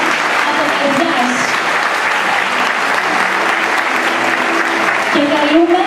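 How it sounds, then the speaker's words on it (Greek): Heartfelt audience applause at a dance academy honours ceremony in Cyprus, dense sustained clapping from a large crowd throughout, with a voice briefly rising over the clapping near the end. "Ας τον χειροκροτήσουμε λοιπόν από καρδιάς."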